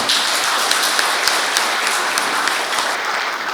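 At a Hwanghae provincial youth association summer retreat, a hall full of people keeps up thick, steady clapping for a few seconds, loud and continuous with no speech over it.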